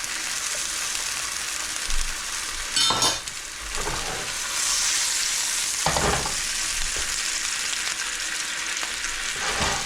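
Hotdogs fry in a pan with a constant close sizzle, broken by a few louder bursts of crackling and scraping as they are stirred or turned.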